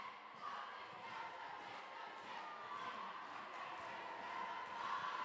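Continuous murmur and chatter of a large crowd of supporters filling the stands at a sold-out women's varsity netball match, steady and fairly distant with no distinct cheers standing out.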